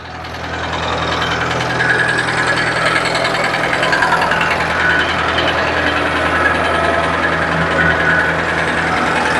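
A TD5050 tractor engine runs at a steady idle, a loud, close diesel rumble with a rhythmic low knock and faint vibration, continuous throughout after building up in the opening second.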